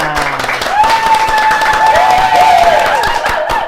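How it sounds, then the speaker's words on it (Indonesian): Studio audience applause and light cheering on an Indonesian talk show set, loud, steady clapping with tonal sounds or voices threaded through. "Boleh tepuk tangan semuanya"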